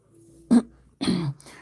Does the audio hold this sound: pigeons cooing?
no